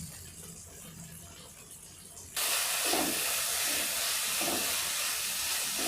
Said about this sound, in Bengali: আমি বাটনা বাটার জল দিয়ে মশলাটি কষে নিচ্ছি।